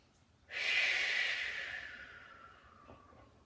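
A single long, close exhale during a rib breathing exercise, starting sharply and fading slowly over a few seconds, breathy and alone.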